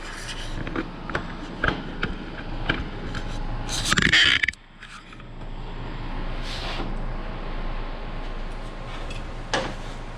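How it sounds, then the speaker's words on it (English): A wrench tightening two fittings on an oil cooler being installed in a 1995 Ford F150, giving a series of close metallic clicks and scrapes with a brief louder rattling burst midway, over faint background hum. "Now I just got to tighten these two fittings and we're good to go."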